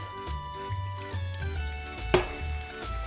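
Broth added to risotto rice in a hot pan brings a close, moderate sizzle and bubbling hiss, with stirring scrapes and a single sharp clink partway through.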